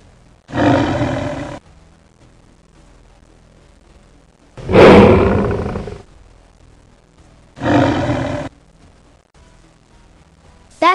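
A wolf roars as a sound effect in a Finnish audio story, three long, loud, deep growling roars separated by pauses of near silence, with the start of a fourth at the end.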